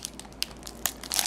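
A foil trading card booster pack being torn open, with quick crinkles and sharp rustling bursts that build to dense, close crackling at the end.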